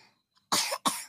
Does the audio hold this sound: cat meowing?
no